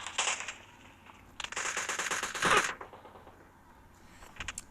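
Gunfire in PUBG's Livik mode rattles in quick bursts of crackling shots, moderately faint and distant, with a denser volley in the middle and a few scattered shots near the end.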